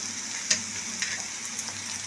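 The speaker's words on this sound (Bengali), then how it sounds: "তেল দিয়ে আমি ভেজে নিচ্ছি ভালো করে" Onions frying in plenty of oil for a pomfret curry, a steady soft sizzle with a few brief sharper crackles and stirring scrapes, close and alone.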